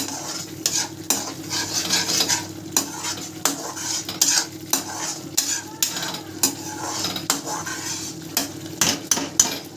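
Masala cooking in a pan and being stirred: repeated scraping clatter of a spoon against the pan over a steady sizzle, close and continuous, with no talking.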